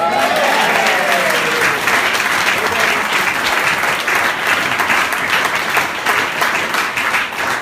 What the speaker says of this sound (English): And we think you also deserve a round of applause as well.